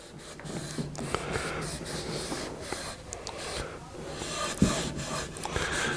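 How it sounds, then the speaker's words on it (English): A seasoning stick and wax-on cloth lay down a second seasoning coat, making close, irregular rubbing and scraping strokes with a few sharper scuffs along the way. "we're gonna go ahead and apply our second coat with our seasoning stick"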